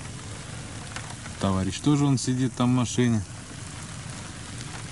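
Heavy autumn rain pours down during an overnight fishing trip, a constant close hiss on and around a parked car while someone talks briefly over it.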